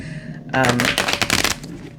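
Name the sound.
shuffling tarot cards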